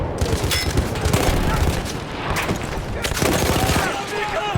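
Dense gunfire in the World War I shooter Battlefield 1 crackles in rapid bursts with heavy booms, loud and continuous.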